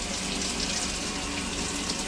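Cold water gushes steadily from a tap in a household water system, a continuous close rushing hiss with no voices.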